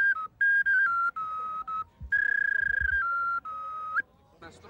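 Clay toy whistles sound at a Christmas fair in Minsk. A run of shrill, piercing tones is blown close by in short bursts and longer held notes, the pitch stepping up and down, with faint crowd noise between them.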